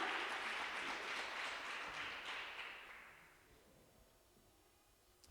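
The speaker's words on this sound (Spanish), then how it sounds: "Dale un aplauso" Church congregation applauding during a sermon, a faint wash of clapping that fades out over about three seconds into near silence, ending with a single soft thump.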